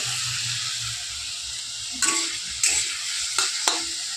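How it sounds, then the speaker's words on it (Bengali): Potatoes fry in a pan in a home kitchen, a steady hissing sizzle with a few clattering scrapes of a spatula in the second half, close and clear, with no talking. "এই যে আলু ভাজছি"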